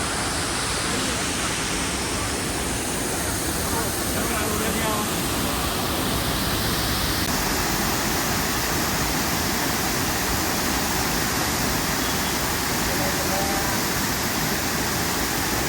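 Cheeyappara Waterfalls, beside the road in the Munnar–Idukki hills of Kerala, give a steady, loud, broadband roar of falling water that fills the whole stretch without a break.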